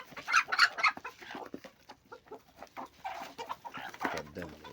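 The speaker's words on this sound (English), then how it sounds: "Here are my local birds." Several local chickens cluck and squawk close by while they feed in the evening. Their calls come in busy, overlapping bursts, loudest near the start, with scratching and pecking sounds between them.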